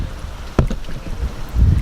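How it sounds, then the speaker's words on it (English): Strong wind gusts outdoors beside a koi pond, a low rumbling buffet against the microphone with a sharp knock partway through and a heavier gust swelling at the end. "Now I know it's super windy out here"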